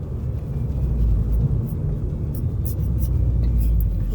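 A Volkswagen Golf 6 GTI Edition 35 engine idling, a steady low rumble that holds evenly throughout, close and fairly loud, with no speech.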